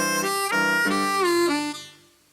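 A harmonica lick played alone up close, starting on the 1-draw and sliding into a 2-draw whole-step bend, with clear held reedy tones that bend downward before fading out.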